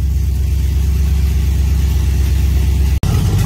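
A car engine fitted with a Holley Sniper EFI throttle body idles steadily and loudly up close, a deep even rumble with a brief dropout near the end.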